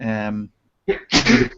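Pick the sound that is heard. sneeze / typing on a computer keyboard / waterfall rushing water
sneeze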